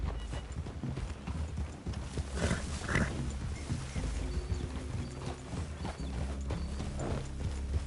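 Horse hooves in a video game clip-clop in a steady, moderately paced rhythm, fairly close, with faint rustling and background ambience.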